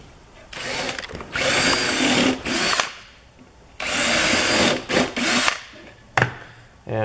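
A power drill drives screws into a wooden Adirondack chair, with loud whirring bursts of about a second each that start, stop and repeat with short gaps.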